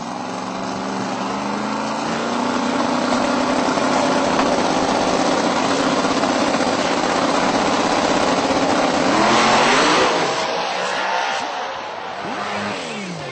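A radial-tire drag racing car at the Texas Radial Round-up accelerates at full throttle, its engine a loud sustained roar that builds and peaks, then eases slightly near the end.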